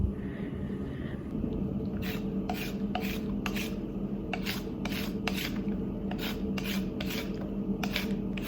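A hand peeler rasps down carrots in quick strokes at close range, a steady scraping rhythm over a low background hum, with no talking.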